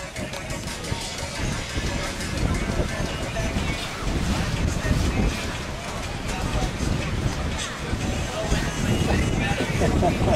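Wind blowing outdoors at a freestyle frisbee competition, a continuous broadband rush with gusty microphone buffeting through the whole stretch, with faint voices underneath.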